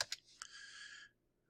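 A few quick keystrokes on a computer keyboard entering a number into drawing software, two sharp clicks then another, followed by a brief lingering tone, close and alone.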